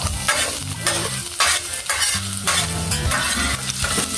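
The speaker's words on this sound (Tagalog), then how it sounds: "Lagay muna yung bawang. Ayan po mga idol. Halu-haluin po." Garlic sizzles in a hot pan while a utensil stirs it, steady frying hiss punctuated by repeated scraping strokes and light clanks, close and continuous with no talking.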